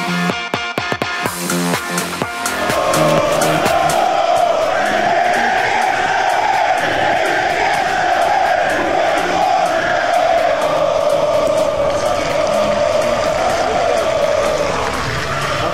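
Ruch Chorzów football fans chanting in unison at an away match against Odra Opole, a loud sustained crowd roar that swells in after a few seconds of nearby clatter and carries on steadily.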